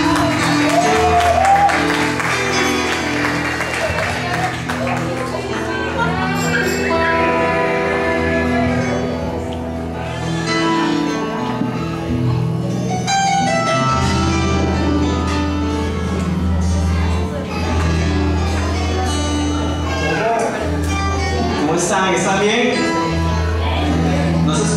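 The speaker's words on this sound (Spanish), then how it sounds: "Aplauso, por favor." Applause, cheers and whoops from a church audience welcoming a Christian worship orchestra from Lima, Peru, sustained and loud over sustained musical tones from the band.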